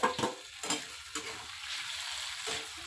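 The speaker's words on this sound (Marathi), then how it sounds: "चला मग मस्त असं परतून घेऊया" Spiced aubergine seasoned with Kitchen King masala sautés in a pan, with a few distinct stirring strokes over a soft, steady sizzle.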